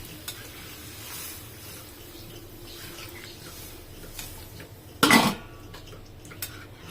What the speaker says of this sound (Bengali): এখন ভালো করে নেড়ে চেড়ে দিচ্ছি, সিদ্ধ হবে।